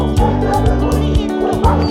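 Several dogs bark close by in the countryside near a campsite, a few repeated barks and yips sounding over steady background noise during a family cycle tour.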